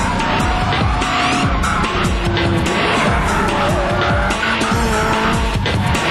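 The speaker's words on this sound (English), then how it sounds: "This is an amazing demo team that has 6 cars running at the same time." Six drift cars running together in a practice session of a grassroots-level drift demo team, loud continuous engine roar with overlapping revving and repeated tire squeals and skids throughout.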